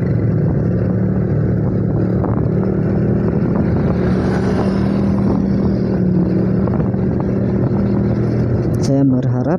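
Motorcycles ride through flood water on a flooded road in Sungai Rangas, Banjarmasin, in December 2021. Close, loud engine drone runs steadily throughout, with wind buffeting the microphone and a brief rattle near the end.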